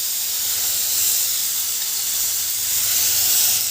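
Washed val papdi beans mixed with potato drop into a hot pan with turmeric, throwing up a loud, continuous steamy hiss that swells slightly and stays steady from start to finish.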